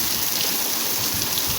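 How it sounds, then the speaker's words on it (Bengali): Heavy rain pours down in a steady, dense hiss, loud and close, with no voices over the constant wash of falling water. "বৃষ্টি এতক্ষণ কম ছিল, এখন আরো জোরে পড়তেছে।"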